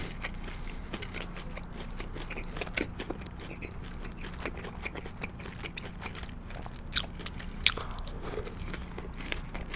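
Someone bites and chews BHC Puringkle boneless fried chicken up close, with continuous soft crunching and munching and a few sharper crunches near the end.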